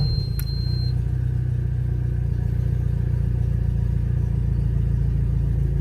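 Steady engine drone from an outboard-powered 2006 Southern Skimmer Carolina Skiff, running evenly and fairly loud with a constant low rumble throughout, no voices.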